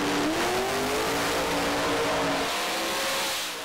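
Street outlaw drag race cars roar down the strip at full throttle, with a loud, sustained engine howl whose pitch climbs steadily through the gears before easing off as they pass into the distance.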